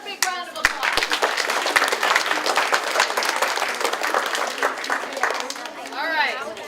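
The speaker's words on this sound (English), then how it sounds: "another big round of applause" Big round of applause from a school audience at a fifth-grade DARE graduation, steady dense clapping at close range with excited cheering voices and chatter mixed throughout.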